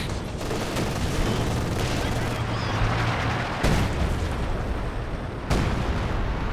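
Artillery and gunfire in the video game Company of Heroes 2: dense rumbling battle noise with overlapping shots, several sharp loud booms standing out from the constant barrage.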